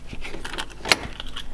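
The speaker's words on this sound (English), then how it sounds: "Take the keys out." Car keys jangle briefly as they are pulled from the ignition of an abandoned Ford Sierra Sapphire RS Cosworth, one sharp metallic clink standing out among soft rattles, close and fairly loud.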